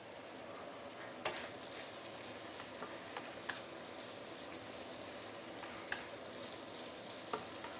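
Vegetables sizzle in a wok of prawn oil fried rice, giving a quiet, steady frying hiss with a few sharp clinks and taps of a utensil against the pan scattered throughout, and no talking.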